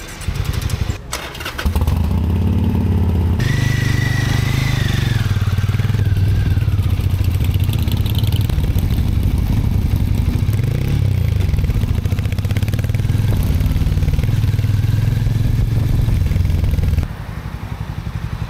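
Harley-Davidson X440 motorcycle ridden on a street in India shortly after leaving the dealership, its engine droning loud and steady up close with gear changes and rising and falling revs, then cutting lower near the end.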